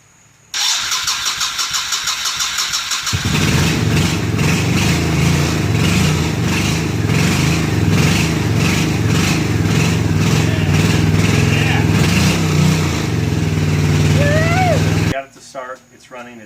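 An engine cranks briefly, catches, and settles into a loud, steady running rumble with a rough pulsing rhythm, then cuts off near the end.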